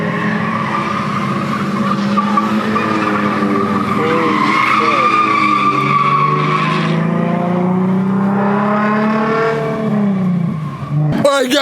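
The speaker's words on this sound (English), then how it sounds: "It's drifting, bro." A car drifts at a street car meet, its tires squealing long and loud alongside the wavering roar of the engine revving, close by, ending with an abrupt burst.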